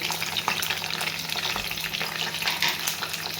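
Peanuts, cumin and mustard seeds fry in hot oil for lemon rice as they are stirred, making a constant crackling sizzle with small spattering pops throughout, close and moderately loud.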